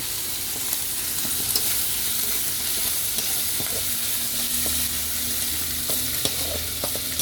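Fried pork sizzles in a pan as shrimp paste sauce goes in, a constant close hiss with occasional small clicks and scrapes of stirring and no voices.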